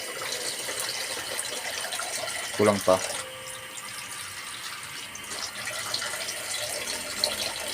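Tap water runs steadily into a pot of mung bean soup with chicken, a continuous close rush with a brief utterance and a few small knocks partway through.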